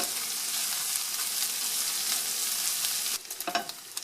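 Chopped bacon frying in a pan, rendering its fat with a loud, steady close sizzle that drops away near the end to a few softer crackles and stirring sounds.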